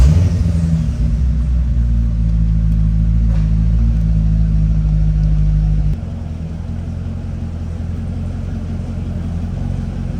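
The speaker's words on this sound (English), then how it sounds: "I'm going to simply go around the parking lot, test the gears, make sure just first and second and reverse, and see that those work." A C6 Corvette idles and creeps slowly around a parking lot through first, second and reverse, a loud steady low engine rumble that drops to a softer tone partway through.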